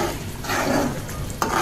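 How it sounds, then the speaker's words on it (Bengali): Fish curry being reheated in a pan sizzles loudly and steadily up close while a spoon stirs through it, with a short scrape of utensil against the pan near the end. "এদিকে তরকারিও গরম করে নিচ্ছি"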